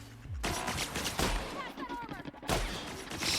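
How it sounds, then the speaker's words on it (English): Bursts of gunfire in The Outer Worlds, several loud volleys of shots separated by short gaps, with a player talking between and over them. "Stop shooting at me."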